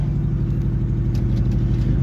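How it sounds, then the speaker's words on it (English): A 1984 Opel Kadett 1.6 idling steadily through a loud sporty silencer, a deep pulsing exhaust burble with even rhythm, close and loud throughout. "The loudness is not the engine, loudness is the silencer."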